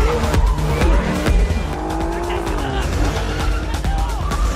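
Cars in a film's police chase scene roar at high speed with tires squealing and skidding, loud and continuous, with engine whines sweeping up and down and occasional voices mixed in.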